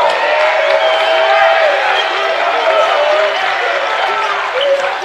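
A basketball arena crowd roars and applauds after a foul is whistled, a loud, sustained wall of cheering and clapping with whoops, steady across the whole moment.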